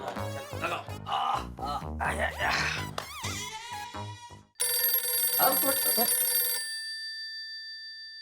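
Voices talk over each other, then a mobile phone ringtone rings loudly for a couple of seconds before cutting off.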